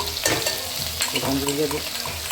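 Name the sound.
fish frying in mustard oil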